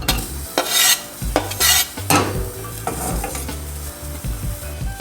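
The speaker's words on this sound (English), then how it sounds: "add about 2 teaspoons of olive oil. And then you're going to add your shallots into the pan." Shallots hitting about two teaspoons of olive oil in a small saucepan over medium heat, with loud bursts of sizzle and repeated spoon-and-pan stirring clatter, close up and with no talking.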